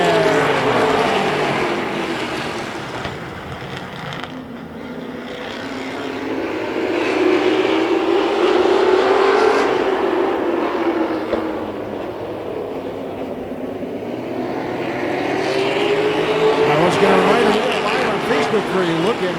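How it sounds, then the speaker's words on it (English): Late model race cars pull away at the green flag of a heat race, their engine roar swelling and fading as the pack passes, while an announcer talks over it. "And here we go, late model racing, green flag."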